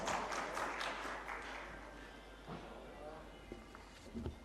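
Audience at an award ceremony applauds in a faint, dense patter of clapping that tapers off, with a voice speaking over it.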